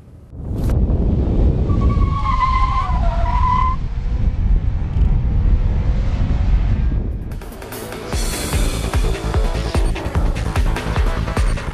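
A Honda Accord 2.4 on a test drive accelerates hard, its engine and tyre roar loud and continuous, shifting into a rougher, broader road-and-wind noise partway through, with no talking.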